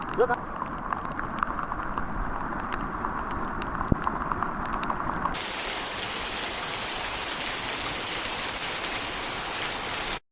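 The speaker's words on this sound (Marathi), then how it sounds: "सकाळी दहा वाजल्यापासून पाऊस पडतोय" Early monsoon rain in Konkan patters on a surface with light drips, then abruptly turns into a loud, dense downpour roar that continues to the end.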